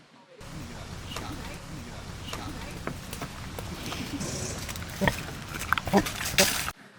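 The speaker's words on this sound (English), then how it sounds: "It's always the pigs." Pigs on a farm animal sanctuary grunt and oink in a continuous, moderately loud jumble, with scattered sharper squeals and thumps growing busier toward the end.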